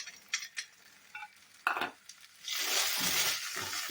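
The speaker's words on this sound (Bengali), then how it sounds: "আমি এখানে মশলার সঙ্গে এটা নাড়াচাড়া করে দিলাম" Fried peanuts tossed with spices in a pan, spatula scrapes and light clinks against the metal, then a louder burst of sizzling toward the end.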